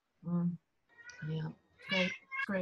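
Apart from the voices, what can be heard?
cat meowing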